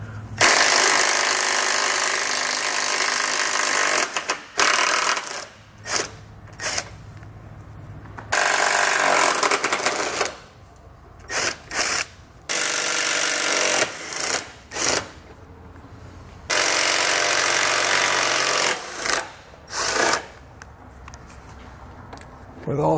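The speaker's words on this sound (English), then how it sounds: "So we'll grab a 15mm socket and pull all 3 of those out." A 15mm socket on a power tool spins off the bumper beam nuts of a 2019 Volvo. It makes repeated loud, buzzing, rattling bursts of several seconds each, with short pauses between, close by.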